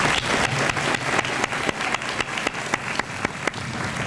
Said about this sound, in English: I'd personally like to give him another round of applause